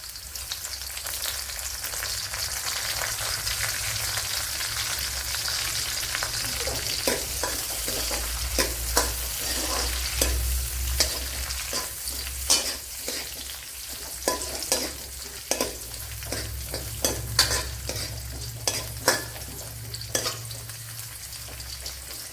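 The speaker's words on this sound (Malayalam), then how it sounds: "ഇവിടെ ഇപ്പോൾ വെളുത്തുള്ളിയും ഇഞ്ചിയും മൂത്ത് വന്നിട്ടുണ്ട്" Garlic and ginger frying in a pan for a Kerala-style curry, with a steady sizzle under repeated scraping strokes of a spoon stirring against the pan, close and fairly loud.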